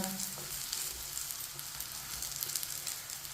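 Food fries in a little oil on a stove turned down low, producing a continuous close crackling sizzle with light stirring noises and no speech.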